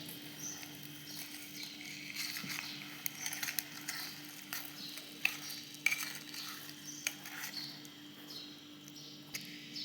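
Curd and sugar being mixed for shrikhand in a bowl, soft wet stirring with intermittent spoon clicks and scrapes at close range over a low steady hum.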